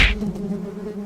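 Wasps buzz at a nest with a steady, close droning hum after a short sharp onset, heard alone without voices.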